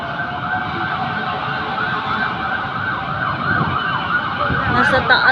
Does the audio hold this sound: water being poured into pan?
no